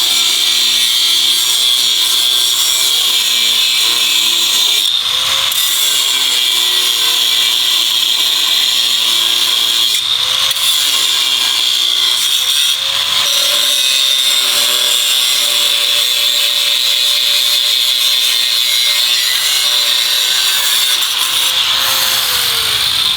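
A reciprocating saw cuts through parts of a drift car, a loud, steady buzzing rasp that runs nonstop with brief dips in pitch as the blade bites, close up and alone.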